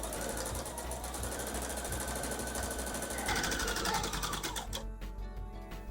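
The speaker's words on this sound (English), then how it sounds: "So this seam I'm sewing all the way through the whole panel." A sewing machine stitches a seam through a pieced quilt panel for a nine patch block, running as a fast, steady close mechanical chatter that shifts in pitch near the end as it slows and stops.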